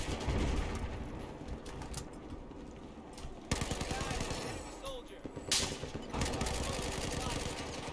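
Rapid automatic gunfire from a weapon in the video game Battlefield 4, sustained bursts running nearly the whole time with a brief break, loud and dense over heavy battle noise.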